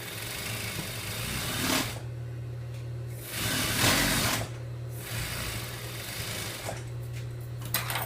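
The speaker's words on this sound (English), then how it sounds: "So I'm gonna sew that at a 1/2 inch." A sewing machine stitches a pant seam in several short runs with brief pauses between them, close and fairly loud.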